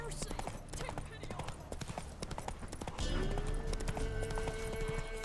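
Roach, a horse in The Witcher 3 video game, gallops with a fast, rhythmic clip-clop of hooves, close and steady, under a music-and-effects game mix, with a brief whinny-like tone partway through.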